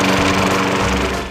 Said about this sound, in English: one lawnmower, self-propelled